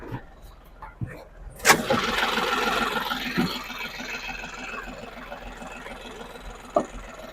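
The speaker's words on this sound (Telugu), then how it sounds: "అలాగే ఇంజిన్ కూడా ఒకసారి చూపిస్తాను." A diesel Ashok Leyland Bada Dost LX light truck with BS6 engine starts with a sharp crank burst, then settles into a steady mid-level idle rumble that fades slightly, with a brief clank near the end.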